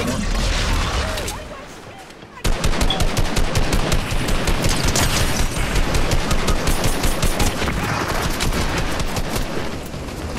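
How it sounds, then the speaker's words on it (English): Gunfire in a Fortnite match on the original map: after a brief lull, sustained rapid automatic fire breaks out, close and loud, with steady repeated shots and people talking over it. "who's shooting at it, Jacob?"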